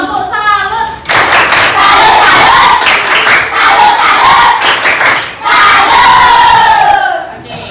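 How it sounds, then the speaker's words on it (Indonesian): A classroom of children in an Indonesian school joins a loud, rhythmic clapping chant, with dense crowd noise, shouted voices and sharp claps filling the whole stretch in several bursts. "Kita kasih tepuk salut dulu untuk kita semua karena hari ini semuanya hadir bersama kita."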